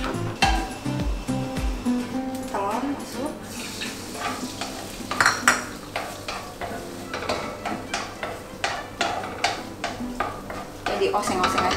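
Spring roll filling stir-fried in a hot oiled pan with egg added first, giving steady sizzling and frying hiss with repeated scrapes and clinks of a utensil against the pan, close and busy, with a voice speaking intermittently over it.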